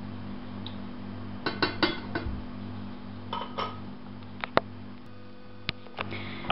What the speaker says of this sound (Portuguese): o sal e o açúcar e vamos mexer e vamos deixar derreter.